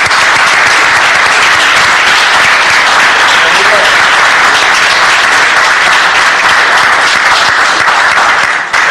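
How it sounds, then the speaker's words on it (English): People at a city public safety committee meeting give loud, dense, steady applause that lasts the full nine seconds, close and continuous, then cuts off abruptly. "let's give Dennis the round of applause he deserves"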